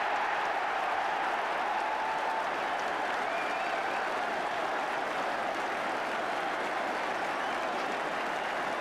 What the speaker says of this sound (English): Great applause all around Highbury.